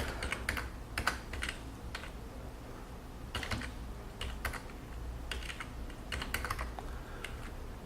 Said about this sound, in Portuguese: Vamos fazer um exemplo de digitação.